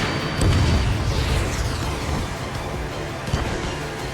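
A missile explosion strikes a base in the Ace Combat 7 video game, a heavy deep boom that swells early and then rumbles on loudly beneath a dense, continuous wash of battle noise.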